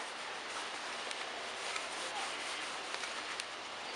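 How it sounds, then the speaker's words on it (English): A shop towel dampened with rubbing alcohol rubs over a car's interior door handle, producing a steady, close, even rubbing hiss that continues without pause. "So I'm just going to use a shop towel and a little bit of rubbing alcohol"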